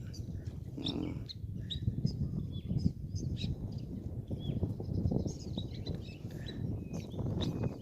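Birds call near a vannamei shrimp pond with repeated short chirps and whistles, some near and some farther off, above a continuous low outdoor rumble.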